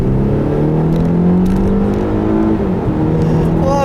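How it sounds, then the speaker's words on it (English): Loud engine growl of a 2018 Volvo XC60 T8 hybrid SUV rising under acceleration, with high supercharger and electric motor whine layered on top, continuous and close. "You got that nice growl of that engine. You hear the whine of the supercharger and the whine of the electric motors"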